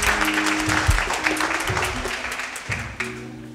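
Audience applause for poets at a poetry reading, steady clapping filling the room with a few sharper bursts, fairly close and loud throughout.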